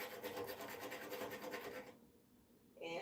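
A pet bird sharpens its beak with a close, steady scraping rasp that runs for about two seconds, breaks off into near quiet, then resumes faintly.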